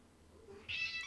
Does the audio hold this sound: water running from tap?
no